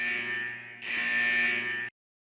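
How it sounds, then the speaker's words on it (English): A test-end buzzer from the fighting game Persona 4 Arena sounds as a steady electronic drone, growing louder partway through and cutting off abruptly after about two seconds. "The buzzer signaling the end of the test finally."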